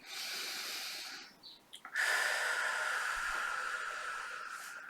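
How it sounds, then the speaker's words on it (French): A slow, deep inhalation drawn in through the nose, close and breathy, followed by a long, hissing exhale that gradually fades; a short pause and small sniffs separate the two. "Et vous prenez une profonde inspiration"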